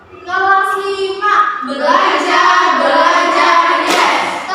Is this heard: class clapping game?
yes